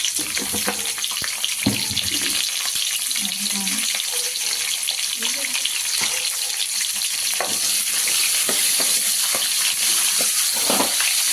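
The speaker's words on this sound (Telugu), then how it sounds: "కొంచెం పసుపు వేసేసి ఫ్రై చేసుకుందాం." Capsicum frying with turmeric in a pan, a steady, loud sizzle running throughout, with occasional stirring clatter and scraping over the hiss.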